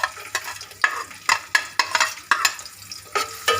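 Onion and whole garam masala frying in hot oil in a pan, a bright close sizzle broken by repeated scraping stirs at a quick, uneven rhythm, loud and clear with no talking.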